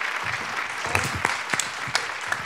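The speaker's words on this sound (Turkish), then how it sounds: "Alkış." Studio audience at a Turkish television variety show claps steadily, a dense wash of applause with a few sharper individual claps standing out.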